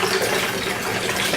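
Mint green tea pours over ice cubes in a continuous loud splashing rush of liquid, steady throughout with no speech over it.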